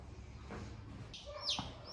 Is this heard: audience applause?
no